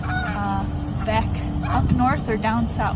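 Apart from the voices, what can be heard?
Canada geese honking in a wetland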